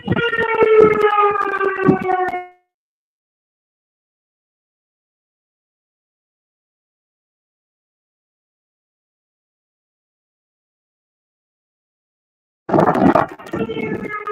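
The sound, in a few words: civil defense siren being tested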